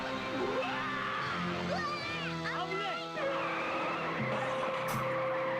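Tires squeal as a car skids in an accident in a played video, a loud sustained screech with wavering pitch over continuous engine and background noise.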